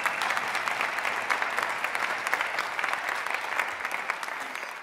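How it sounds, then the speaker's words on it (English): Steady audience applause filling a wind ensemble concert hall, dense and continuous clapping from a crowd at close range, holding level for the full stretch with only slight fading at the end. "Can we give them a round of applause?"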